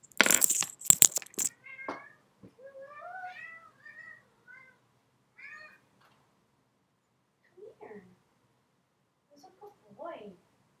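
A Bombay cat meows several times, close and clear, in short separate calls with quiet gaps between them, after a burst of sharp clattering noises at the start.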